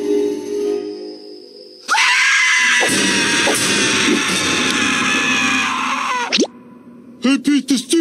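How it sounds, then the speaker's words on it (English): A cartoon character lets out a long, loud, sustained scream practiced for a metal album, cutting off abruptly before a few short gasping yelps. "just practicing my nightly screams for my new metal album"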